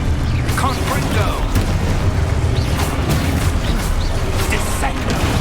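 Spell combat in Hogwarts Legacy, including a Confringo fire blast: a dense, loud wash of booms, whooshes and mechanical clatter runs without a break, with a voice speaking over it.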